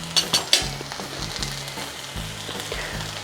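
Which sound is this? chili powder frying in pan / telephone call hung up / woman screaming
chili powder frying in pan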